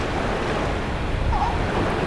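Ocean surf washing over coastal rocks at a South African fur seal colony, a continuous rushing roar with a slight swell near the middle, wind noise mixed in and no voices.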